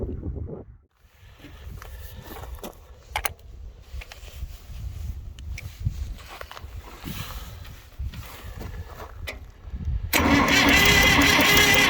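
The engine of a Case 800 tractor, suspected of a blown head gasket, cranks over with a low, rhythmic chugging for several seconds, then a louder, broader burst of engine noise comes in near the end.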